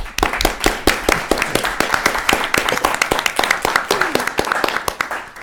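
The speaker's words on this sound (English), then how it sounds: "a round of applause for our distinguished judges and moderator" An audience at a public policy debate semi-final claps and applauds steadily, a dense burst of many hands sustained for several seconds.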